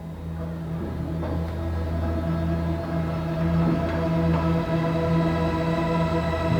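Spitfire Labs Tundra Atmos 'Ghost at the Harbor' ambient pad, a steady, dark sustained drone with low tonal layers and faint shimmering overtones, loud and unbroken throughout.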